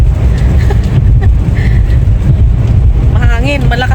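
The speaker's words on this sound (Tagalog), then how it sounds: "Mahangin, malakas ang hangin ano." Strong wind buffets a moving car on a highway during a storm, a heavy, constant rushing roar with gusty low-frequency pounding, while a voice speaks briefly near the end.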